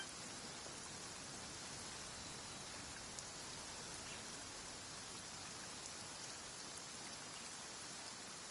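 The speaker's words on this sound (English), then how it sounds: "Why is it raining all of a sudden?" Steady rain falling in Genshin Impact, a dense, even hiss of downpour that holds constant throughout with no talk over it.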